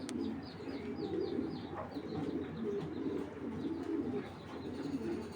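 Racing pigeons coo in a low, steady rolling murmur, with faint chirps above it, continuous and fairly quiet throughout.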